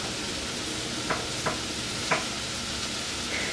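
Onions frying in a pan make a steady hissing sizzle, with a few sharp scraping stirs at intervals; no voices.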